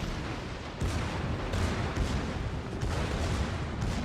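Secondary guns of a Kii battleship firing in World of Warships, several heavy booms spaced about half a second to a second apart, each a dull broadband thump over a continuous low rumble of battle.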